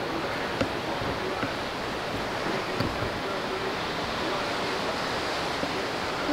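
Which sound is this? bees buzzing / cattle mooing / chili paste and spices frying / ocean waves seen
ocean waves seen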